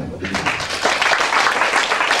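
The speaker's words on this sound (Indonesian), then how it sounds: "Kita berikan tepuk tangan bagi Tuhan." Church congregation applauding during a sermon, a dense, steady burst of clapping close by for about two seconds.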